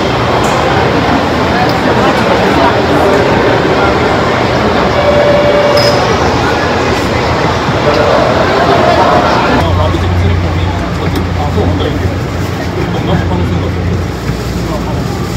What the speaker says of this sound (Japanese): 初めてポートライナーに乗るよ。